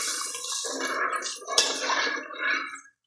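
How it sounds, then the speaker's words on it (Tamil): Water pours into a cooking pot of basmati rice, a continuous close splashing gush lasting about three seconds before stopping abruptly, with no talk. "ஒன்றரை தண்ணி ஊற்றினா போதும்"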